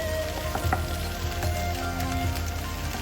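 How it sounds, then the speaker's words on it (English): Peas and carrots hit a pan of sizzling Spam fried rice, producing a continuous close frying hiss with a few soft stirring bumps, no voices. "now we're gonna add the peas and carrots"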